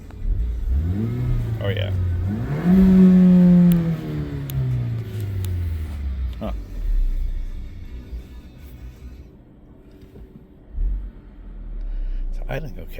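A 2014 Ford Escape engine running in neutral, its note swelling in a rev before easing back toward a steady idle rumble, with brief spoken remarks over it.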